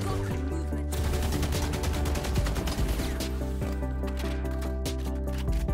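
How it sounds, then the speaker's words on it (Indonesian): Sustained gunfire in Valorant as bullets hammer a hardened Deadlock barrier, a dense, continuous burst of rapid shots with impact crackle running loud through the whole stretch. "Butuh peluru lebih banyak buat ngancurinnya."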